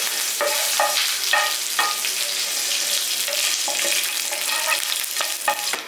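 Curry leaves sizzle in hot oil while a spoon stirs them, the steady frying hiss broken by repeated scraping strokes at an irregular rhythm, close and without speech.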